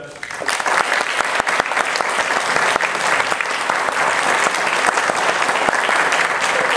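Audience at a university honor society initiation gives a sustained round of applause, dense and even clapping from a large crowd that stays loud and steady throughout without any talk over it.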